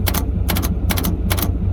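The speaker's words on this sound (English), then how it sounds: "The reason why it's continually clicking like that is because what's happening is in the truck, when this Bendix right here engages" The starter Bendix on a Ford 6.7L Powerstroke pickup clicks in four quick bursts of rapid rattling, each about a fifth of a second long, over a steady low engine drone.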